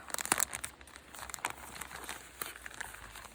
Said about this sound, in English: Again, another giant plastic bag.